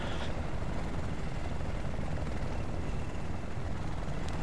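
A helicopter in the Battlefield Bad Company 2 video game gives off a loud, steady rotor and engine drone that holds evenly throughout, with no voices over it.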